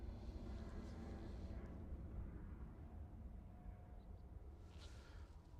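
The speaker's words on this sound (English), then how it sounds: "Nice little EasyJet departure there." An EasyJet airliner departs Manchester Airport, its jet engines a loud, steady low roar that fills the scene throughout and fades slightly toward the end.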